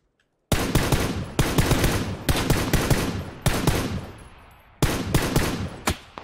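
Rapid bursts of video game gunfire in a sniper-focused shooter, five or six loud sharp volleys each decaying into a tail, separated by brief gaps, with no talk over them.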